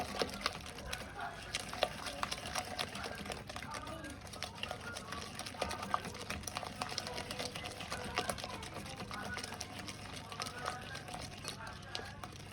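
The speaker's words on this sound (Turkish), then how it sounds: "Şöyle güzelce biraz şekerli yumurtayı tel yardımıyla karıştırıyorum." A wire whisk beats eggs and sugar in a bowl, making a quiet, continuous, rapid ticking and scraping that runs steadily throughout.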